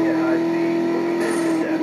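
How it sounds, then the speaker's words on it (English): Turbo whine from a Mercedes-Benz SLS AMG in the Need for Speed Most Wanted video game: a loud, sustained high-pitched tone over engine rumble, holding steady for the whole short stretch. "I've never heard turbo noise that loud on a car"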